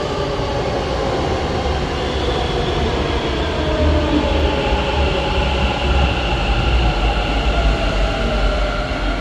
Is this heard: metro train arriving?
yes